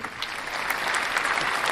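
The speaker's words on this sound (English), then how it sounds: "round of applause" Audience applause at a trader community live hangout, a steady round of clapping that holds even and fairly close from start to finish, with no voices over it.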